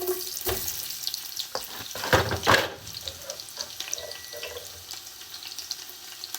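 Onions dropped into a warm pot for a porridge or pottage, a sizzle mixed with watery clatter and a few sharp knocks and stirs near the middle, settling to a softer hiss.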